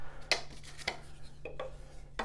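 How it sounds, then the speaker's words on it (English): A utensil stirring shellac in an open can, making a few soft scrapes and taps against the metal, close and quiet over a low hum. "So we stir it."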